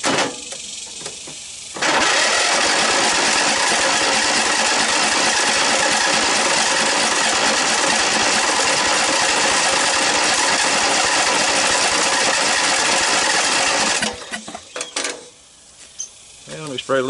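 A Snapper 38-inch riding mower engine cranks briefly, then catches and roars steadily for about twelve seconds at close range before cutting off, followed by quieter clattering.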